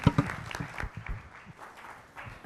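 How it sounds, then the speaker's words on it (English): Applause from a seminar audience for the panelists at a building-financing summit session, loud claps at the start that thin into scattered, fainter clapping with some low murmuring. "A round of applause for all our panelists."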